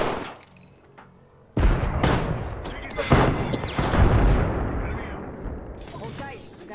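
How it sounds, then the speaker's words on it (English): Grenade going off in Apex Legends: after a quiet stretch with faint voices, a sudden loud blast erupts, followed by a string of sharp bangs and gunfire cracks with a voice calling out amid the chaos. "Heads up, grenade!"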